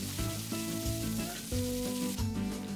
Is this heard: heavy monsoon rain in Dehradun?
no